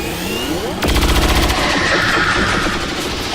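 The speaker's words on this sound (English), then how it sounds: "Nice shooting, Elvis." Automatic weapon fire rattles out in the XCOM 2 video game, a sudden loud burst of rapid shots starting just under a second in and continuing densely to the end, with game sound beneath.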